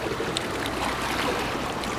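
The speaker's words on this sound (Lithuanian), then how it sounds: "pareina bangos" Waves wash against a kayak in a steady, close, broadband splashing rush with no pauses, moderately loud throughout.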